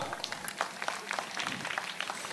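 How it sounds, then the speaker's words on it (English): An audience at an opening ceremony applauds the chairman with a dense, continuous spatter of many hands at moderate volume and an even intensity throughout. "May I have a big round of applause for our chairman"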